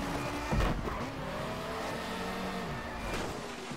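A 1994 BTCC touring car in the racing game GTR 2 slides at Brands Hatch Indy with one wheel on the grass, its engine droning and tyres scrubbing continuously, with a louder burst early on.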